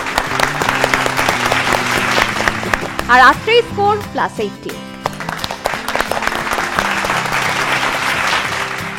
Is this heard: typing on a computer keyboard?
no